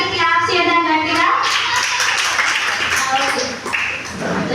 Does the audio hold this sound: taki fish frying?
no